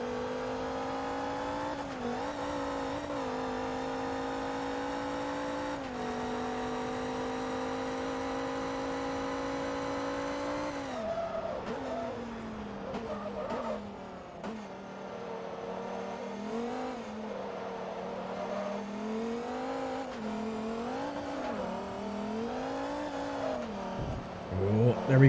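An American sports car races in Forza Motorsport 2, its engine droning at a steady high pitch that climbs and dips through gear changes and corners, with a commentator talking over it throughout.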